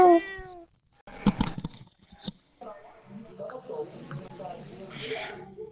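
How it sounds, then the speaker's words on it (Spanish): A house cat meows at the start of the clip with a few rising, drawn-out calls. Voices then talk and react loudly over it. "Oye, pero el gato casero."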